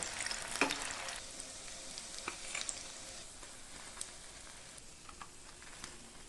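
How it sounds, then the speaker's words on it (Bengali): Egg devil croquettes fry slowly in oil, a soft continuous sizzle with scattered crackles and light stirring clicks, fairly quiet and close. "এগুলো আস্তে আস্তে করে ভেজে নেব"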